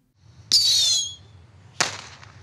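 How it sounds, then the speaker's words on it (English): Two short fireworks go off in succession, each a sharp burst with a bright hissing whoosh that fades within about half a second, separated by near silence. "testing out some fireworks"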